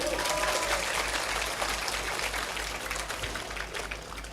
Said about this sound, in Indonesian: tepuk tangan untuk para santri